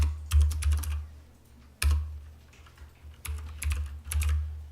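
Bursts of typing on a computer keyboard while entering text in InDesign CS6, several quick clusters of close, crisp keystrokes separated by short pauses.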